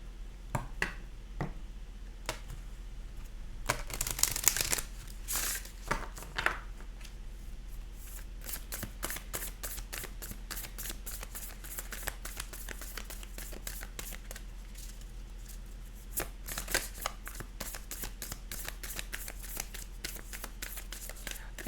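Moonology oracle cards are shuffled by hand in repeated crisp riffles and soft flicks, close and fairly quiet, with a few louder clustered bursts over low background hum.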